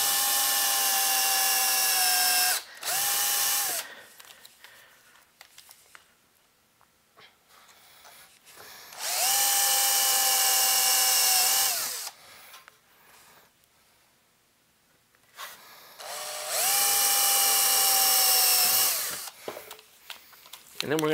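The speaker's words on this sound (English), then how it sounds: "so let's drill these out" A power drill whines loudly in three long bursts, drilling holes in a metal tube amplifier chassis, each rising to a steady high pitch, with quiet pauses and faint handling noise in between.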